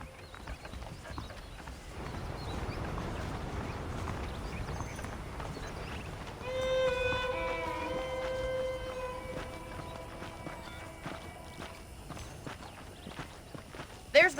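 Horse hooves clip-clop at a steady walking pace in the video game Red Dead Redemption, heard close and continuous under a bed of sustained tonal sound.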